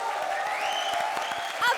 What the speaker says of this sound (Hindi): तो इसी दादी के लिए जोरदार तालियां।